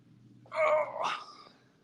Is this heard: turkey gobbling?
no